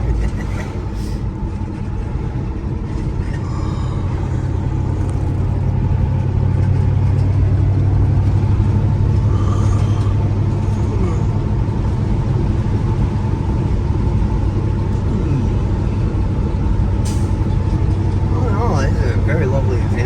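A 1979 Chevrolet Camaro Z28 with a four-speed and factory exhaust manifolds idles smoothly and quietly, a steady low rumble running throughout beneath people talking.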